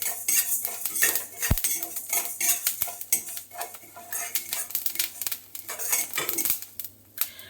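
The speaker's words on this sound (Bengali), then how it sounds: "প্রথমে আমি 5 ফোড়নটা ভেজে নেব" Panch phoron frying on very low heat in a kadai, with a metal spatula clinking and scraping against the pan in uneven, close taps over a faint sizzle, no talking.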